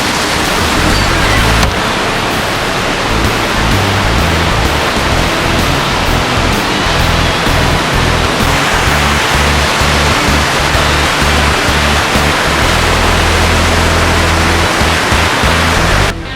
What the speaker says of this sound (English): The water leaves the secondary clarifiers and enters the sand filter building.